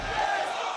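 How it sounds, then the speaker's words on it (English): A crowd roars and cheers at a destructive robot fighting event, a loud, sustained wash of voices that fills the arena in a brief burst. "Listen to the crowd. I don't know if you can hear this at home. They are going nuts in here."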